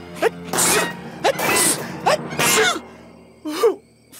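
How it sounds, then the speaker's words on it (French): Garfield, the cartoon cat, sneezes several times in a row, each burst opening with a sharp gasping intake and ending in a loud spray. The sneezes are spaced irregularly, and a final softer sniffle comes at the end. "Ça va stopper mes éternuements"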